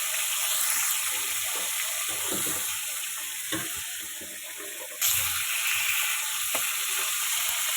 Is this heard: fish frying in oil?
yes